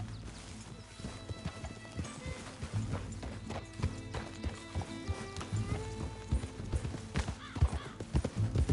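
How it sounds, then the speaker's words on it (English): Horse hooves clopping in an uneven rhythm in Red Dead Redemption 2, joined by a neigh and snorts, close by with a faint musical backdrop. "Your horse."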